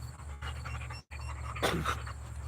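A puppy pants in quick, steady breaths close by, over a low constant hum, with a brief higher whine-like breath near the end.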